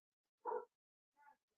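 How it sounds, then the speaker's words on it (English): A dog, close by and fairly quiet, gives two short barks in an indoor setting, the first louder and the second softer about a second later. "Sorry about the dog."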